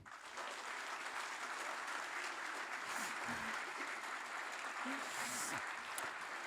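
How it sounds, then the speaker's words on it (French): Applause from a gathering at a liberal party New Year reception in Brabant wallon, welcoming a young councillor: a fairly faint, continuous patter of many hands that sounds somewhat distant, with a few voices faintly underneath. "je vous demande vraiment de l'applaudir et de l'accueillir avec nous aujourd'hui"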